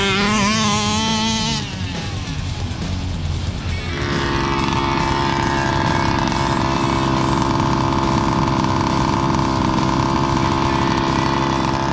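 An HPI Baja 5B petrol RC car engine revs hard while driving through long grass, a loud, buzzing two-stroke whine that rises in pitch, then holds a steady high drone close by.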